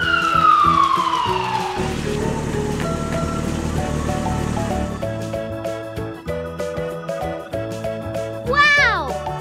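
A toy police car siren wails with falling electronic tones over busy music-like jingles, ending in a short rising-and-falling siren burst near the end.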